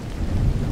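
A short burst of thunderstorm sound effect, a deep rumbling roll of thunder with a hiss of rain, loud and close for under a second.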